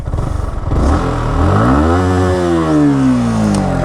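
A Yamaha R15 V4 motorcycle's exhaust revs up close, a loud engine that climbs to a high sustained whine, then eases back down, with no voices over it.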